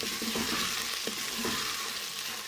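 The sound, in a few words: okra and green chillies frying on high heat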